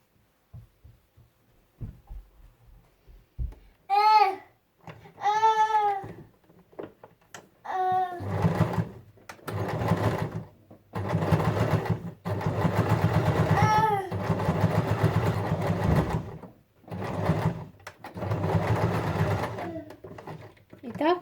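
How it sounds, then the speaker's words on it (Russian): A sewing machine stitches fabric in repeated bursts of rapid, steady mechanical whirring, close and loud, alternating with short pauses while someone talks between and over the runs. "Теперь прострачиваем на швейной машинке, как я уже сказала, вот тут с краешку."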